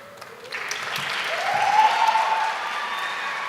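Applause from an audience at a student honors concert starts with a few claps and swells quickly into steady clapping from a crowd, then holds.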